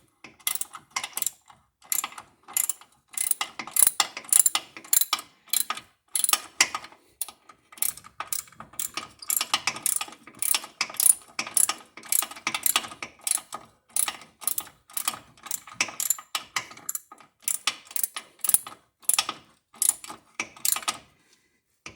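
A ratchet tightens the hub assembly on a 1995–2001 Ford Explorer during a brake job. Rapid, close bursts of metallic clicking repeat in quick strokes for the whole stretch, with no talking.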